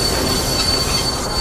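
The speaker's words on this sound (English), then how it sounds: "But with all the pushing and the screeching of their brakes, Percy's train wouldn't move." Brakes of a wooden Thomas toy railway train screech loudly and continuously, a sustained high squeal with steady rolling rumble beneath, close and alone.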